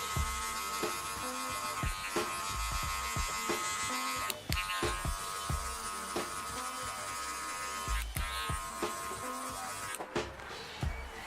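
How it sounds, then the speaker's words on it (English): Electric hair clippers with a number 1 guard cutting hair clipper-over-comb for a bald fade, a steady close buzz running throughout with repeated short snipping strokes and brief pauses. "I'm gonna close my lever with my number 1 guard on and clipper over comb this hair to remove a lot of the bulk"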